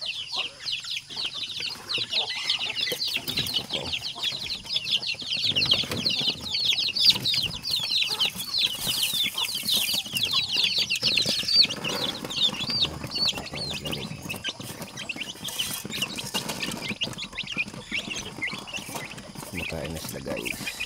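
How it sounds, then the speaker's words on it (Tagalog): Backyard chickens and ducks crowd around feed in their pen, a busy mix of clucking, chirps and flapping wings with constant rustling, while a person talks over the flock. "Yan po yung pagkain ng ating chicken."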